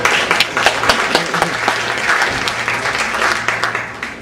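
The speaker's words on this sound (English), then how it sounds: "Now you can clap." Audience at a comedy show at the Airport Playhouse breaks into steady, dense applause, many hands clapping close together for a few seconds with a few sharper claps standing out.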